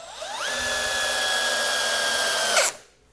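A Milwaukee M12 FUEL installation drill/driver in speed 1 driving a screw, its motor whining up quickly and holding a steady pitch for about two seconds before stopping abruptly, close and alone.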